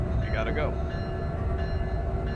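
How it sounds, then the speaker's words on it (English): Locomotive bell ringing steadily in the Open Rails train simulator, a SEPTA 9747 train, with repeated metallic clangs over a continuous engine rumble. "Oop, forgot the bell was on."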